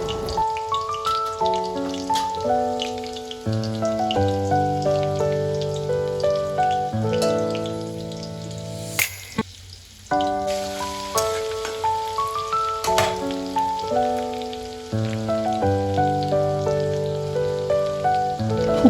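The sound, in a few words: sautéing crushed cumin and garlic in oil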